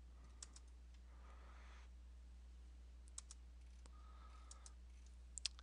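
Faint, sparse mouse clicks tap out singly and in quick pairs against a steady low hum from a computer setup.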